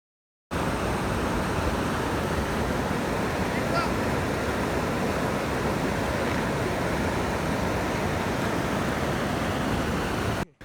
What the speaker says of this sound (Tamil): எங்கே சுற்றி பார்த்தாலும் சின்ன சின்ன அருவிங்க தான் ஓடிட்டுருக்கும்.